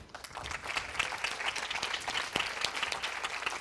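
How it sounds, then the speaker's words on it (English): An audience applauds a student at a coding tech expo, brisk, dense clapping from many hands, sustained for several seconds and heard at a moderate distance, somewhat quiet overall. "I asked for an applause for him as well"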